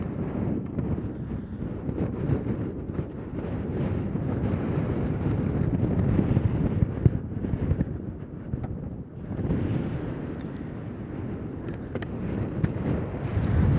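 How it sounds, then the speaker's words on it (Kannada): Strong wind buffeting on a hilltop, a continuous deep roaring rumble against the microphone that swells and eases but never stops, loud and close, with no one talking over it. "ಯಪ್ಪ ಯಪ್ಪ ಯಪ್ಪ ಯಪ್ಪ, ಗಾಳಿ ನೋಡು ನೂಗ್ತೈತೆ"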